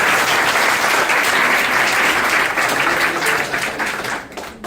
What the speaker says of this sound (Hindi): मैं चाहूंगा इनके लिए एक जबरदस्त तालियां हों